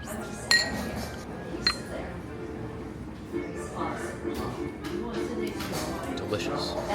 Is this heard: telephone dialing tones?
no